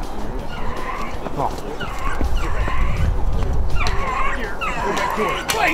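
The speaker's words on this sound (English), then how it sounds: "the dogs were about to bring a rabbit right to us" A pack of beagle hunting dogs bays and yips repeatedly while chasing a rabbit outdoors, a continuous overlapping chorus of barks at moderate distance, with people talking underneath.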